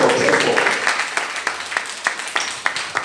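Clapping from a church congregation for a couple at a religious conference, starting as a dense wash then thinning to scattered individual claps while a voice carries on over it.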